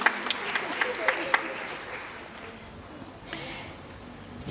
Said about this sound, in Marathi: जोरदार टाळ्या शुभंकर अत्रेसाठी एकदा.